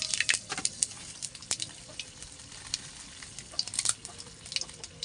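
Panch phoron spices hit hot mustard oil with dried red chillies in a kadai for a vegetarian singara filling, giving a steady close sizzle with sharp crackles and pops.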